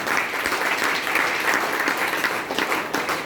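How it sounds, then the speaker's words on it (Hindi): Sustained applause from an audience at a business-plan seminar, dense steady clapping filling the room with no pauses. "70 करोड़ के लिए एक शानदार ताली तो हो जाए।"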